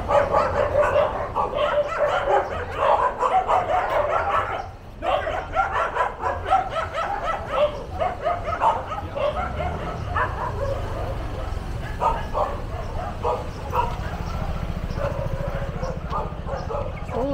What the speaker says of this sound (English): this was a dog fight.